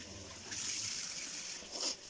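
Water poured quickly into a cooking pot while making matar pulao, a brief, faint splashing trickle that swells to a short burst near the end.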